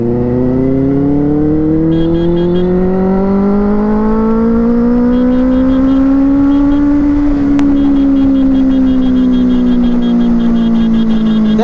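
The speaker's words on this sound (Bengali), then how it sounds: "এবার তোমাদের কাছে বিশ্ববিখ্যাত ইনলাইন 4 এর সাউন্ড শোনাতে চলেছি" A Kawasaki Z900 inline-four superbike engine on the road gives a loud, close, smooth howl that climbs steadily in pitch, then eases and holds, with no talking.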